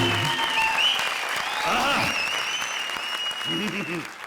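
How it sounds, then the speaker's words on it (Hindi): A studio audience claps for Rakshanda and Rahman on the comedy show Comedy Circus, steady applause under tonal music and brief vocal sounds. "जोरदार तालियां रक्षंदा और रहमान के लिए।"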